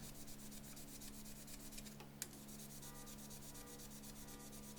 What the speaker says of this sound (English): So with this medium coarse rust eraser, I'm going to run vertically along the height of the knife.